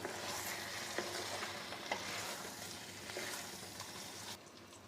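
Fried potatoes stirred into a cabbage curry with fish head, a continuous close sizzle broken by repeated scraping strokes of a spatula through the pan.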